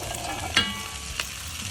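Butternut squash and shallots cooking in butter for a creamy soup with chanterelles, giving a soft steady sizzle under stirring, with a brief scrape of a utensil against the pan near the middle and another light knock shortly after.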